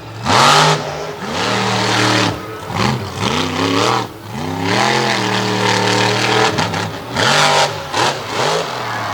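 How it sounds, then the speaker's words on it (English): Monster truck engine on a paved track at Jennerstown, Pennsylvania, revving hard in repeated loud surges, each climbing and falling in pitch, with bursts of mechanical clatter between the revs. "These cars did not last long as Corey Snyder starts laying into it here in Jennerstown, Pennsylvania."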